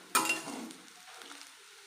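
Chicken chow mein is tipped from a hot pan into a bowl: a sharp metallic scrape at the start, then a soft, fading sizzle and shuffle of noodles settling, close by and quiet.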